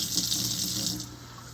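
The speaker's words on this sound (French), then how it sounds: "c'est l'étape d'arroser la terre puis de l'aplanir" Water pours steadily onto dry soil in a seedling tray, a close hissing splash that eases off after about a second.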